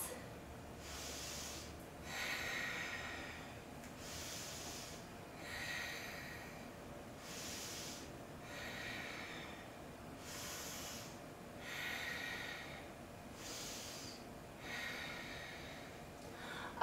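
Slow deep breaths taken while holding a yoga hip stretch in a vinyasa session, each long airy inhale and exhale repeating in a steady cycle about every two seconds, close and fairly quiet with no talking.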